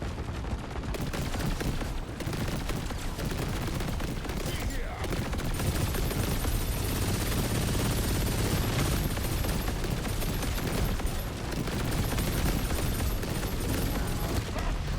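Rapid sustained gunfire in the video game Deep Rock Galactic Rogue Core, dense machine-gun bursts that run continuously and loudly throughout with game effects mixed in.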